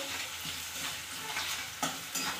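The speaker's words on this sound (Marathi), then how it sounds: "याचा कलर चेंज होईपर्यंत आपल्याला कांदा परतून घ्यायचा आहे" Onion sautéing with salt in a pan for anda bhurji, a close, steady sizzle with several scraping stirs and a couple of sharper spatula knocks toward the end, no talking.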